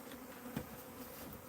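A swarm of bees buzzes in a steady, dense outdoor drone around a hive being handled, with one brief louder thump partway through and no talking.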